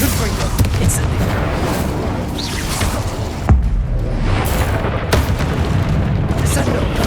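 Spell blasts from Confringo and Incendio cast in Hogwarts Legacy, loud booming impacts and fiery whooshes layered over dense game music and combat noise, with a sharp burst midway and no clear speech.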